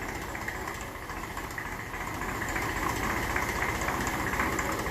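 A 1954 Ferguson TEF 20 diesel tractor engine idles with a steady, knocking diesel chatter just after its timing chain was tensioned. The idle is close and even, slowly growing a little louder, with no voices.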